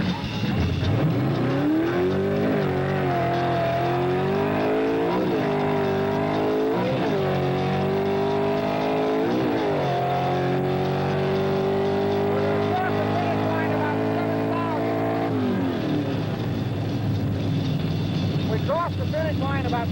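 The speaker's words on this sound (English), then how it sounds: "Let's ride with Ed as he drops the hammer and really puts it to the wood." A 1960s Ford Cobra Jet drag racing car roars hard under acceleration, its loud engine climbing through repeated gear shifts and then settling into a sustained high pitch, heard close from on board.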